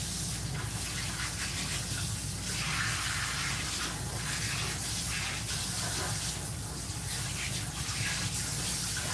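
Tap water runs steadily as hair color is rinsed out of a client's hair at a salon sink, a continuous close hiss of spray and splashing throughout.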